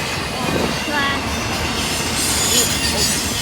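A Norfolk Southern intermodal train rolls along the tracks in Portage, Pennsylvania, producing a loud, continuous rumble with wheel noise and a faint metallic squeal throughout.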